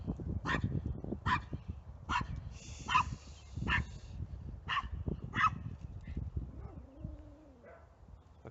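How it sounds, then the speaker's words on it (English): Dog barking in a house, a series of about seven short, sharp barks in steady rhythm, close and moderately loud over low background rumble, with a faint whine near the end. "So there's a doggy here."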